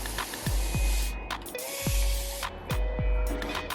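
A spray bottle spritzes water onto locs matted together, a few short hissing bursts and one longer spray, close by with small handling clicks between.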